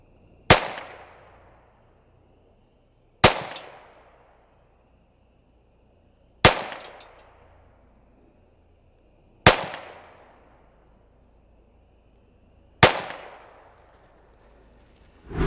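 Target pistols, a Huben GK1 .25 air pistol and a Volquartsen 22LR, fire five evenly spaced single sharp shots about three seconds apart, each a loud close crack with a short decaying tail.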